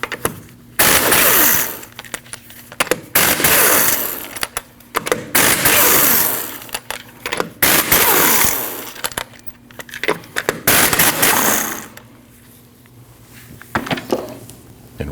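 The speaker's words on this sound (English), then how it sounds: "After you've raised and supported the vehicle safely, you need to remove your 5 lug nuts." Lug nuts, 19mm, being spun off the front wheel of a 2003-2008 Subaru Forester with a power tool, in loud bursts of buzzing, rattling rotation broken by short pauses, close by with no talk.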